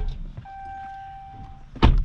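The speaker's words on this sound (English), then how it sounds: "let's fucking close the doors" A car door shuts with a single solid thunk near the end of a short, quiet stretch inside a vehicle parked for an intake and engine-computer install, with a faint electronic chime tone before it.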